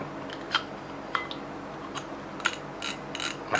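Quick mechanical clicks from the ratchet of a Daiwa BG SW 6000D-H fishing reel come in short bursts, faint at first and then louder and faster near the end.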